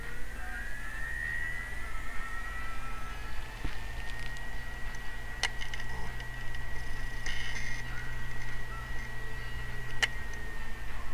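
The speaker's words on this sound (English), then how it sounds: "I'm gonna now turn on the drive, and you're gonna basically hear it" A failing 1TB hard disk drive spins with a steady high whine and low motor hum, broken by a few sharp isolated clicks and ticks from the heads, close and fairly quiet, with no talking.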